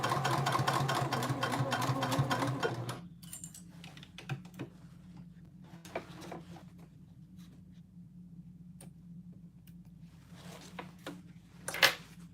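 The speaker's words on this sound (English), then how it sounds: "I backstitch over that seam allowance too." A sewing machine runs a fast, steady stitching burst while backstitching over a seam allowance on a basic tote, then stops, leaving faint handling clicks and a quiet room hum.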